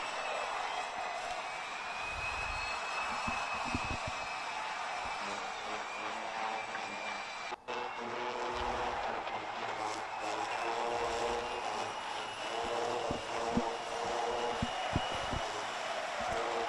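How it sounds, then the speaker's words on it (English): Rotax Max racing karts in a final at Wackersdorf circuit produce a continuous, buzzing engine drone, with several karts passing close and fading, while a commentator talks over the racing. "Those karts are getting quicker."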